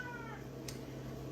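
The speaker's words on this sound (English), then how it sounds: "my cat making that noise." A house cat meows once, a short rising call that is faint and somewhat distant over a steady low room hum, with no talking.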